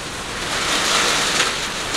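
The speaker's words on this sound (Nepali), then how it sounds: "आयो मोटो पानी।" Heavy rain pours down with wind during a storm in Kailali, a dense, steady hiss that stays loud and constant throughout.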